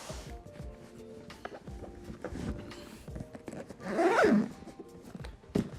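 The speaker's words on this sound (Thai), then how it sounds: "แล้วเราก็ปิดฝา ปุ๊บ รูดซิป" A zipper is pulled shut around a carrying case for the Nintendo Switch 2, giving one short, close rasping zip partway through over a quiet room background.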